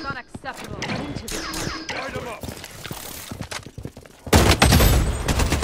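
Rapid automatic fire from an AR97 rifle in the shooter game Blood Strike, with bursts of shots cutting through excited talk and laughter, then a loud sustained stretch of dense gunfire near the end.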